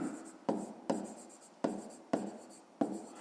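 Writing out a fifth-grade math solution, with five distinct strokes at a steady rhythm, each a crisp scratchy onset that fades quickly, close and fairly quiet with no talking.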